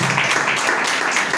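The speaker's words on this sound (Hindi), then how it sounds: "प्रभु के लिए जोरदार ताली बजाएंगे।" Church congregation at a Hindi Sunday service clapping loudly in praise, a dense, continuous wash of applause filling the room without any voices.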